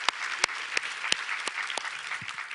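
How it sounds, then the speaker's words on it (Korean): Applause from a church congregation during a Korean Sunday worship service, with scattered sharp claps over a steady wash of clapping that stays fairly even throughout. "우리 하나님께 감사와 영광의 박수를 드리겠습니다."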